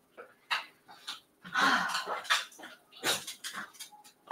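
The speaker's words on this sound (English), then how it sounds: "The dogs are fighting over a dog chew" Dogs scuffle over a dog chew with snuffling, panting and quick scrabbling bursts, close by and fairly faint, with clinks and brief yips scattered through the tussle.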